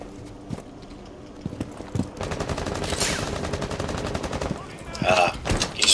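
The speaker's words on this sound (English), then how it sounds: "I'll go blow out the windows with my shotgun" Shotgun blasts breaking out windows in Rainbow Six Siege on the Consulate map, several sharp, loud reports with crashing debris and game noise, a voice briefly heard around them.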